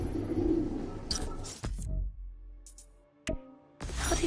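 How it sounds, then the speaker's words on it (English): Pigeons coo in a park recording from the video game Spider-Man: Miles Morales, soft throaty calls over a background wash, broken by sudden cuts and short sharp bursts. "The place was swarming with pigeons."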